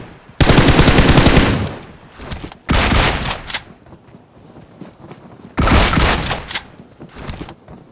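Loud bursts of automatic gunfire in PUBG Mobile, three long sustained volleys separated by quieter gaps with fainter distant shots, no talk heard.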